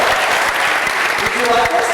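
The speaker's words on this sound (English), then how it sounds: "Can we give her a huge round of applause for that?" Dense applause from an audience at a motivational speaking event, steady and loud for the full two seconds, with a few voices mixed in beneath the clapping.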